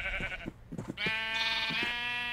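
Video game sheep bleat several times in quick succession, close and clear, with a longer wavering bleat after.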